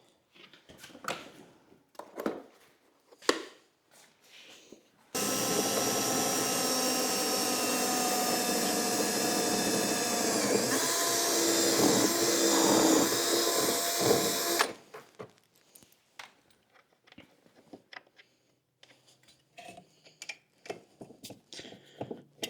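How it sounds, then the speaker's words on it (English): A power drill bores through metal, running steadily for about ten seconds with a harsh, grinding whine, starting and stopping abruptly between quieter handling noises. "I think we can drill right through it."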